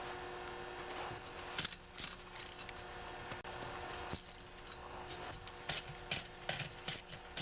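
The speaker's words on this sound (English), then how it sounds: "So now I'm going to remove all these 3/8 bolts here that holds the cover." A ratchet wrench removing 3/8 bolts from the cover of a Tecumseh 10 hp engine during a teardown, heard as faint, close, irregular clicks and metallic ticks with short pauses between bursts.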